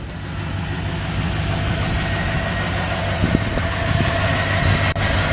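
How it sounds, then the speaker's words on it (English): A 2007 Chevy Avalanche with the 5.3-liter LC9 aluminum-block V8 idles at 151K miles, a steady low rumble close by with no voices, and a brief bump partway through. "Got a really good sounding engine in it."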